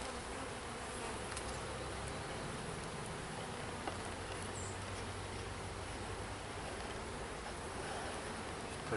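Honeybees hum steadily inside an open hive during an oxalic acid treatment, a dense, continuous buzz close by with no voices.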